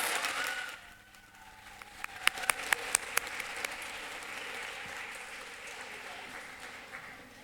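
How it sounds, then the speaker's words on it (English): After a children's speech competition final, a few sharp, separate claps ring out, then faint, distant applause settles into a soft, even wash of sound in a hall. "let's give a big round of applause to these contestants."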